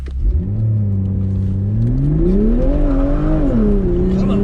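A sports car launch-control start, sweeping into full-throttle acceleration: one loud engine note climbing steadily in pitch, with a brief dip at a gear change, close and continuous.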